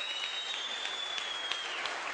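Audience applause for two music-show finalists, a dense, steady wash of many hands clapping throughout, fairly loud and continuous with no voices standing out.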